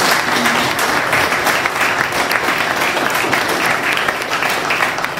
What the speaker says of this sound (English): Let me get a round of applause for our panelists.